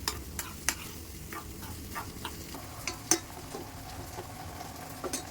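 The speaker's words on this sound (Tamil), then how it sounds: "நல்லா ப்ரௌன் கலரில் நல்லா வதக்கணும்" Chopped onion and garlic sautéing in a pan on a home stove, a steady soft sizzle with a spoon stirring through it in scattered scrapes and clicks. No one speaks.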